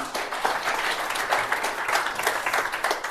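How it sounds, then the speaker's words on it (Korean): An audience at a forum lecture breaks into dense, sustained applause, loud and close, continuous clapping with no talk over it. "박수 한번 더 치고"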